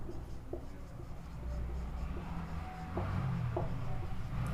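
Marker or chalk scratches across a board in short strokes while a maths equation is being worked out, faint and close over a steady room hum, with no talk during the writing.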